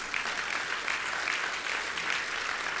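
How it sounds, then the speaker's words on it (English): A faith coalition dinner crowd breaks into steady applause, a continuous, even roar of many hands clapping at a moderate distance with no voice over it. "I'll take a round of applause for that."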